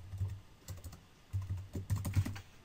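Keys clacking on a computer keyboard in bursts of quick strokes with brief pauses between them, close and clear, with no voices over them.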